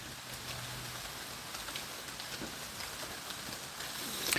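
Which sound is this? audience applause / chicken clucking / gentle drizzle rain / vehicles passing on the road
gentle drizzle rain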